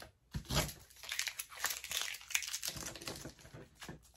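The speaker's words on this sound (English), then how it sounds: "I'll take this tape right off of here." Packing tape peeled off a Dollar Tree three-tier tray, a faint run of crinkling, tearing rips in uneven bursts with short pauses, up close and without talk.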